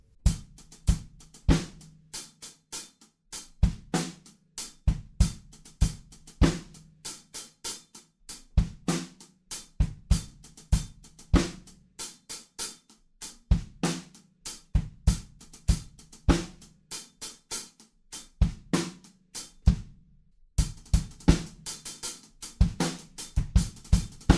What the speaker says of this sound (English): the kick drums drive along a little bit and we get like this kind of driving reggae feel